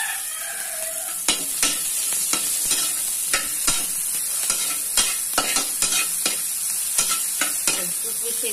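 Onions sauté in hot oil in a pan for pancit, giving a continuous bright sizzle with regular clicks and scrapes of a utensil stirring, close by, without speech.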